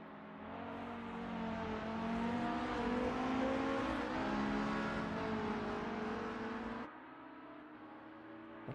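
A Volvo touring car engine in a racing video game, 1990s BTCC at Donington, drones loudly and steadily, its pitch rising and falling with gear changes before dropping to a lower, quieter tone.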